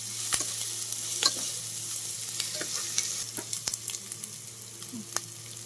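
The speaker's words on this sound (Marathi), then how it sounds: "सुरुवातीला आपण कांदा टोमॅटो परतून घ्यायचा आहे" Onion and tomato sautéing in oil for paneer pulao, a steady close sizzle punctuated by repeated sharp scraping stirs of a spoon against the pan, no voices.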